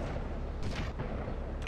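Sniper gunfire in Grand Theft Auto: Vice City Stories, heard as a dense, continuous roar of game combat with a couple of sharper bursts cutting through near the middle and end.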